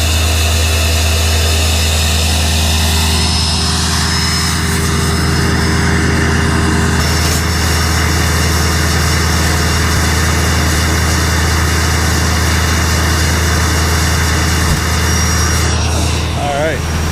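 A truck engine runs at high idle, a loud constant drone with a steady low rumble and whine held throughout, a voice speaking over it.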